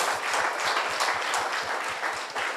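A church congregation claps in a brisk, fairly regular rhythm, many hands striking together in unison close by and filling the room without any voices over it.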